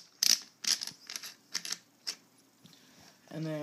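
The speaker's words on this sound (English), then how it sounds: "in order to take off the barrel, you need to unscrew the magazine tube cap" Metal magazine tube cap of a Remington 870 shotgun being unscrewed, a string of short, sharp clicking and scraping bursts at close range, with a brief voiced sound at the end.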